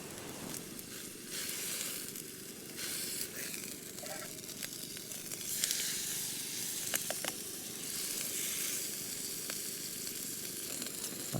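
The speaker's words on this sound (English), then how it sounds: "Lovely ribeye steak. Oh, it sounds lovely." A ribeye steak sizzles and spits steadily in a pan at a wild camp in Ireland, a soft, constant frying hiss with occasional sharp pops, heard alone without talk.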